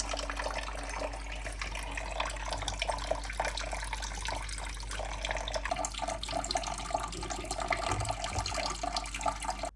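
Water runs steadily from a kitchen tap while a cat drinks from the stream, giving a continuous close splashing rush with a low hum underneath and no talk.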